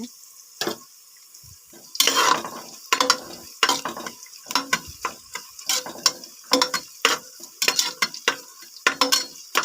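Ingredients for bisi bele bath frying in a pan while a spatula stirs them, giving a run of sharp, uneven scrapes and clatters over a soft sizzle. There is no talking.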